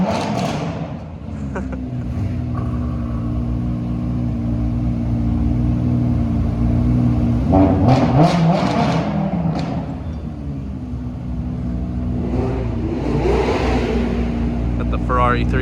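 A Lamborghini Aventador SV and a Mercedes G63 pulling away with a low, steady engine drone that swells around the middle with a revving burst, and people talk over it throughout.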